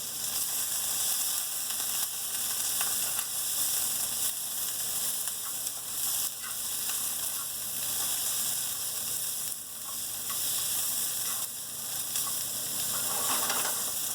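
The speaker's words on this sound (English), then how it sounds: "You want to fry these string beans until they start to wilt and get kind of shrivelly." String beans frying in a wok for Szechuan-style beans, a loud continuous sizzle and hiss with occasional stirring scrapes, close and steady for the whole stretch with no voices.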